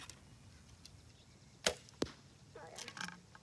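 Arrow shot from a bow striking another arrow already in the target: two sharp cracking impacts close together, then faint rattling and shuffling afterward, all fairly quiet outdoors.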